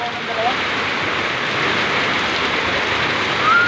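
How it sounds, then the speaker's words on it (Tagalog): Heavy rain pours steadily in a dense, unbroken hiss, loud and close, with no pauses. "tuloy-tuloy na ang malakas na ulan"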